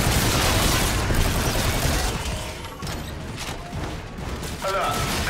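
Dense, chaotic gunfire and mechanical clatter in a Call of Duty Infinite Warfare battle, loud and continuous, with voices mixed into the din.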